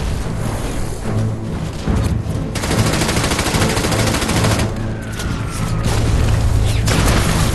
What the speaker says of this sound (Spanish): Los hombres dispararon y lanzaron granadas mientras corrían.